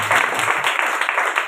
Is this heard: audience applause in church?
yes